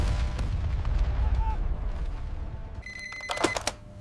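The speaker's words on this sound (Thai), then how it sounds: "ปืนใหญ่ฝ่ายไทยตอบโต้เพื่อสกัดการคุกคาม" Thai artillery firing sends out heavy, rumbling booms at a distance, followed by a short stretch of sharp, ringing metallic tones.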